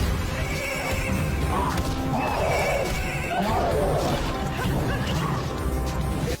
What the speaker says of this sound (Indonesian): bergegas menuju kuda-kuda yang berlari kencang